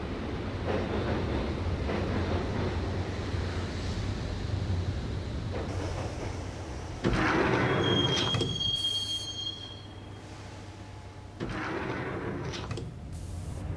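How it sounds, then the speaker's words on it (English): In the game Max Payne, a subway train rumbles steadily along, with a metallic squeal of wheels partway through and a sliding thump as doors close, then the ride continues. "the train doors had already shut behind me, and I was in for the ride"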